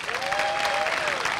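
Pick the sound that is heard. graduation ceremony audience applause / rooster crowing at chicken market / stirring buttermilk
graduation ceremony audience applause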